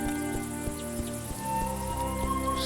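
Crickets chirp steadily in a grassy outdoor scene in the 2021 game A Juggler's Tale, a faint continuous insect chorus under soft ambient tones and gentle music.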